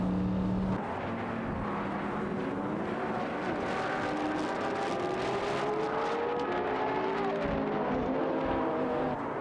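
Racing cars in an AI racing video game, among them an Audi R8 and a Porsche 911, roar in a steady, continuous engine drone with overlapping whines rising and falling as the cars jostle for position.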